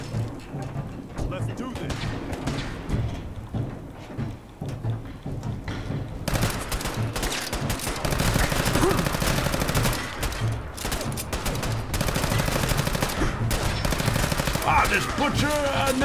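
Gunfire in Fallout 4 rattles in dense bursts of rapid shots mixed with booming blasts, loud and continuous, with game sounds and a voice in the mix.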